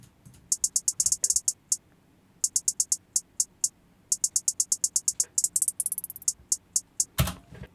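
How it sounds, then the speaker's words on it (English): A programmed hi-hat pattern in a hip-hop beat made in FL Studio, with crisp, bright ticks in fast bursts and rolls that speed up and pitch upward, clear and alone, ending with a louder crash-like hit. "Hi-hats, they sound like this."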